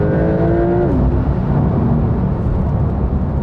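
A Porsche 911 Turbo S flat-six engine revving hard above 6,000 RPM in Sport Plus mode, a loud continuous engine roar whose pitch falls and settles into a heavy drone, heard from close by with no talking.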